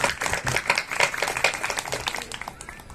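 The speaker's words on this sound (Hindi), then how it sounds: "आइए उनके स्वागत में भी खूब तालियां" An audience at a religious satsang gathering claps in welcome, producing dense, continuous hand claps that carry on steadily and begin to thin toward the end.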